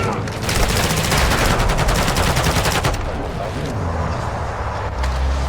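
Rapid bursts of automatic gunfire in Call of Duty: Warzone DMZ, dense rattling volleys that continue steadily and loudly, then ease into a lower rumble near the end.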